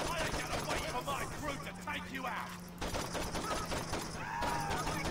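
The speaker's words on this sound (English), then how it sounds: "You're just shooting at random pedestrians, aren't you?" Rapid bursts of gunfire aimed at pedestrians in the video game Saints Row 2, dense crackling shots running through most of the clip beneath overlapping talk.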